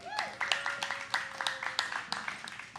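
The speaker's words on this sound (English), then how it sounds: "Give yourselves a round of applause." An audience in a live venue breaks into scattered clapping, a brief uneven round of hand claps heard over a steady tone, with a voice talking over it.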